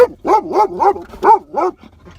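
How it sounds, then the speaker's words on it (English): A dog barks inside a car, giving about five sharp, close, loud barks in quick succession, then a softer trailing whine. "You wouldn't bark at anybody if we were walking on the street."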